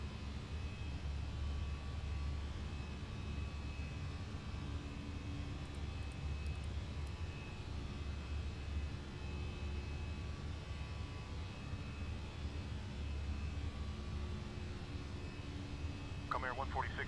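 Steady droning engine and wind roar of an aircraft climbing out after takeoff in Microsoft Flight Simulator 2020, continuous and even throughout, with faint brief clicks and a short chirp near the end.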